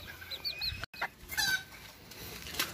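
A hen clucks in short, soft bursts amid other fowl at a poultry breeding yard, faint and fairly close with light background noise.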